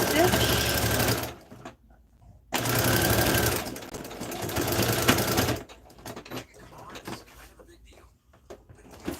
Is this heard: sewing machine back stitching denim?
yes